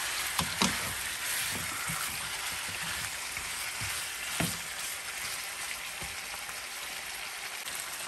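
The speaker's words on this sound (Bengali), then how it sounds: "এখনো আরেকটু ভাজা করব 1 মিনিট।" Chicken pieces fry in a pan for a chicken curry, giving a steady, close sizzle with brief pops and crackles throughout.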